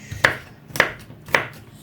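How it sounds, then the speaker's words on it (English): Cabbage is chopped into small slices with a knife on a board, three crisp, evenly spaced chops about half a second apart, close and clear with no talk. "I chop it in small slices"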